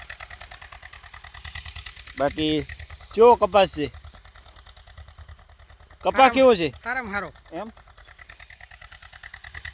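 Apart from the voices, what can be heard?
tractor running in cotton field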